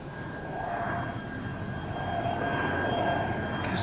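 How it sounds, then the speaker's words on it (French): An airplane passes overhead, a steady broad engine roar with a faint whine that swells slightly toward the end, heard alone without voices. "C'est un avion!"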